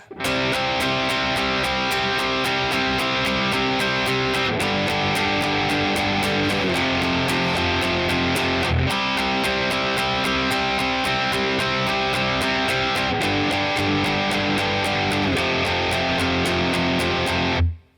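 Distorted electric guitar power chords, starting on C5, strummed continuously in a driving rhythm for the chorus, loud and dense with regular accented hits, alongside a steady beat.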